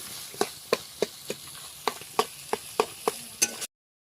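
Fish fries in masala, a quiet sizzle beneath a quick, regular series of about a dozen sharp spatula taps against the pan before the sound cuts off.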